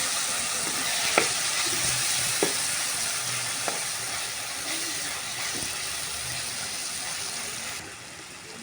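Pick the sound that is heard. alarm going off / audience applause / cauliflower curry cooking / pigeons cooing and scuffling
cauliflower curry cooking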